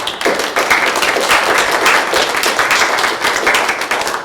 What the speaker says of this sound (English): So let's give a warm round of applause to Terri.